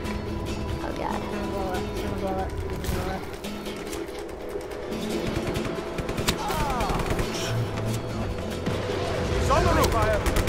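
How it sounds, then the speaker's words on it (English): Weapon fire in the open-world action game Just Cause 3, with bursts of gunfire and blasts from a grenade launcher ringing out amid game effects, continuous and fairly loud, with voices talking over much of it. "I meant to pull out my little machine gun, but instead I pulled out a grenade launcher"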